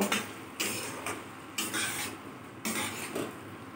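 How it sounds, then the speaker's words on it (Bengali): Fried baby corn is tossed in a pan over a low flame, with four rhythmic bursts of rattling and shuffling against the metal over a soft background sizzle, close by. "দিয়ে এবার আমি গ্যাসটাকে কম করে দিয়ে ভালো করে এটাকে টস করে নেব।"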